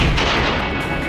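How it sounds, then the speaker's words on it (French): An underwater explosion blasting away a floating platform, heard as a loud, sustained broadband roar of blast and rumble throughout with no voices. "Quelle explosion!"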